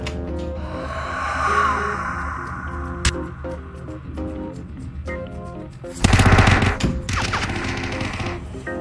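Gunshots in a VR shooter game, heard as a sharp crack around three seconds in and then a loud, dense burst of fire, over a bed of game music and ambient noise.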